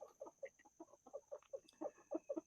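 A pair of Wyandotte Bantam hens, one black lace and one blue lace, cluck in a grow-out pen with a steady run of short, close clucks and soft calls for the whole stretch, with no talking.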